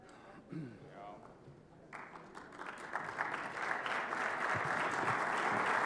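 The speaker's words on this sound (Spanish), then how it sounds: "Un aplauso también para Vinca Samojot por la impecable conducción de este panel" Audience applause at a CEO summit panel on open innovation in Peru, thanking the moderator; brief talk and noise at first, then a broad wash of clapping swells after about two seconds and grows steadily louder to the end.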